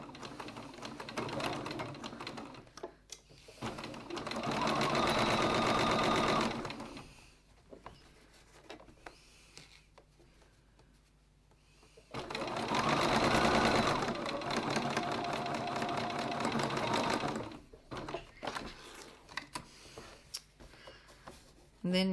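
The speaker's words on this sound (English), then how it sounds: "go to your machine and stitch." Sewing machine stitching the seam of a leather wallet strap, running in two sustained bursts of rapid mechanical stitching with quieter handling noise between them.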